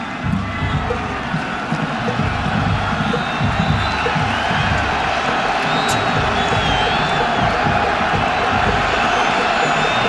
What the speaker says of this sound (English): Crowd coming to its feet.